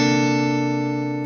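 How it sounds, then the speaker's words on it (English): A single 13th chord strummed on a guitar in a funk style, ringing clean and steady for about a second before beginning to fade. "here's the sound of a 13th chord"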